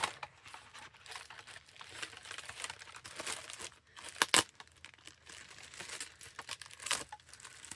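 Plastic packaging bags, including Valentine's bags, crinkle and rustle close up in irregular bursts, with a sharper crackling flurry partway through.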